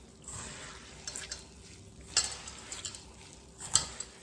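Boondi mixture for laddu being stirred in a pot, a soft, faint scraping and squishing with a few light metallic clinks of the spoon against the vessel, quiet and close.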